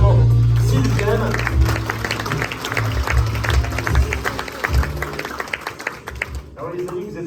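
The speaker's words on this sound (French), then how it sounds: "on peut l'applaudir chaleureusement" At a 70th-anniversary dinner, guests clap warmly, a burst of sharp claps that fades and thins over several seconds while voices and a low hum continue beneath.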